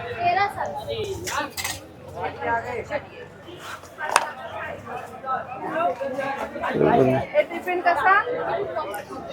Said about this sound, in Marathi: बघा इथं भांड्यांचा स्टॉल आहे.